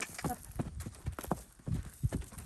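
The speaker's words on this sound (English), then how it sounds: "he'll pick up the canter because he's more balanced" Horse hooves cantering across a sloping backyard, giving an uneven run of dull thuds close by with some breathing and movement noise between beats.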